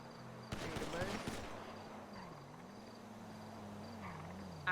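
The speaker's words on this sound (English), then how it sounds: "obviously there's gun shots in the area" A quick burst of rapid gunfire rattles out in a GTA roleplay game, several shots in close succession, then fades into a quiet hum with faint ambient chirping.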